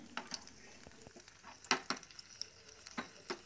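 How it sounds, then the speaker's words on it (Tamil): Raisins frying in hot ghee for coconut milk payasam, a faint, quiet sizzle broken by scattered sharp little pops and light stirring clicks. "நெய் சூடாயிடுச்சு, இப்போ நம்ம வந்து கிஸ்மிஸ் பழம் போட்டுக்கலாம்."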